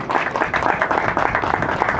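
Brief applause at a book launch, a crowd of hands clapping steadily and fairly close for two seconds with no voices over it.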